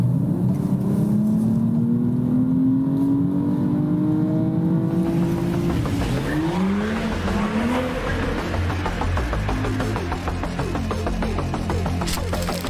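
A BMW 240 all-wheel drive in Sport Plus mode accelerates hard, its engine note climbing steadily through the gears with quick shifts, loud and continuous from start to finish.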